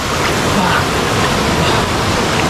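Loud, steady broadband rush of a waterfall with a footpath running behind it, near and continuous with no pauses.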